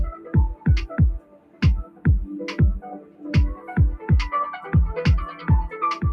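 Sampled beat of punchy repeated kicks and percussive hits with melodic layers, the pattern moving from a steady four-on-the-floor pulse into a triplet rhythm, loud and up front with no talk.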